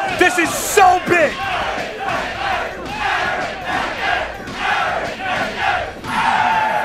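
A large crowd at a Skullgirls fighting-game tournament roars and chants in unison, loud and sustained throughout, with rhythmic bursts of shouting and cheering filling the hall.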